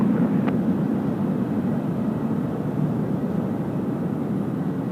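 A jet airplane lands at Sydney Airport on a windy night, a steady, loud roar of engine and rushing air that holds evenly throughout with no voices.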